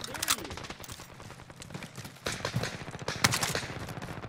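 Gunfire in Call of Duty: Modern Warfare, rapid bursts of sharp shots in uneven clusters, near and fairly loud, with voices briefly mixed in.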